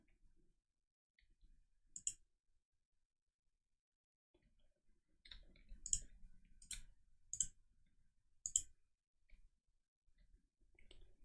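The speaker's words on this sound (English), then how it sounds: "If you can hear my keyboard and mouse in the background" Sparse, quiet clicks from a computer keyboard and mouse, a few isolated taps followed by a cluster of sharper clicks with soft low thumps between them.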